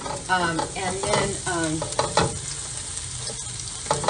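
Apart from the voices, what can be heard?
breaking up Beyond Burger frying in a pan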